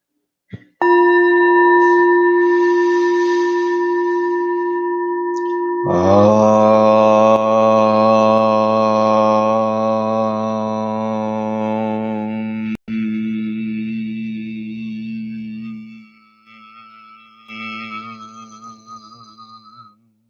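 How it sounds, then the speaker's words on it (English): A meditation bell rings during a morning guided meditation, its sustained harmonic tones swelling once, then slowly thinning and fading away into quiet, heard alone. "And as our attention shifts to the fading bell and silence after"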